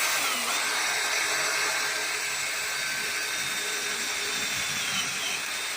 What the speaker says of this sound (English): All right, redrill my hole, show me.